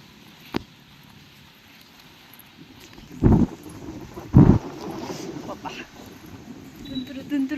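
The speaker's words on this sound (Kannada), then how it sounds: "ಮಳೆ ಸ್ಟಾರ್ಟ್ ಆಯಿತು, ಜೋರಾಯಿತು." Rain begins during a drive near a guava farm in Karnataka, with two loud, close thunder-like bursts midway and a faint hiss of rain building around them, while people talk.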